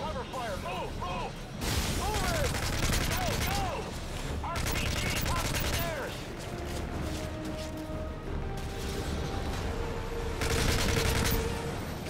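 Sustained cover gunfire in the Call of Duty: Modern Warfare 3 game, with rapid rifle bursts and volleys rolling across a courtyard firefight over about twelve seconds, loud and dense, with shouted voices and clattering mechanisms mixed in.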